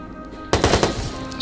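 Gunfire in the video game Watch Dogs comes as a quick burst of several loud, sharp shots in rapid succession, with a brief tail afterward and no talking.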